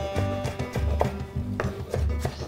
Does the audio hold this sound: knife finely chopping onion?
yes